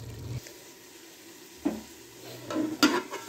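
Mixed vegetables cooking in ghee in a pot give off a low, steady sizzle, punctuated by a few louder clanks and scrapes of stirring near the end.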